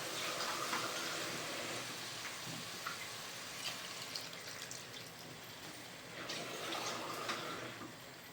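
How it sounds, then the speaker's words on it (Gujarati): Water poured into a pot of chicken curry with potatoes on a gas stove: a steady, fairly quiet splashing wash with brief surges, continuing without speech. "ચલો હવે એટલે પાણી એડ કરી દેવાનું,"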